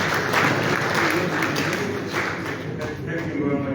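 Audience applause at a meeting of West African central bank governors in Liberia, a dense steady clapping from a hall crowd that holds for several seconds.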